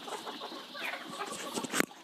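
Kadaknath hens on a poultry farm with about 3,500 laying birds cluck in short, faint bursts, with a sharper call near the end.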